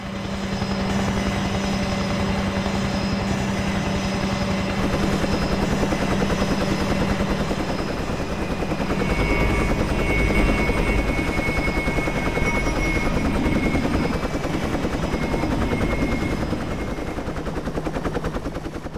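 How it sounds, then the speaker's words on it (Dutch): A helicopter in the Trainz 2 train simulator game flies past with a loud, continuous rotor chop and engine drone, steady for the whole stretch with no talk over it. "Er is ook een helikopterverbinding tussen de luchthaven, die overigens vliegveld Elsweg heet, en Apeldoorn."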